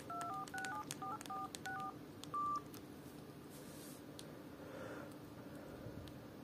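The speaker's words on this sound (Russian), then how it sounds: "Клавиши нажимаются довольно удобно." Keypad presses on a 2006 Samsung F300 mobile phone, a quick run of about a dozen beeping key tones then one longer beep, close, over a low background hum, no voices.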